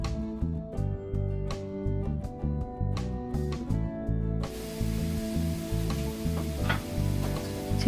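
Chopped leeks frying in a chicken pie filling, a steady close sizzle and hiss with occasional stirring, running under continuous background music.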